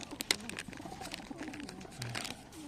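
Soft pigeon coos and fluttery bird sounds close by, with a few sharp clicks and faint background noise.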